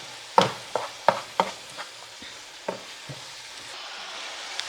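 Beef and quinoa stuffing tossed together in a pan, giving several sharp scraping clacks of a utensil against the pan in an irregular series, then fainter stirring over a quiet background.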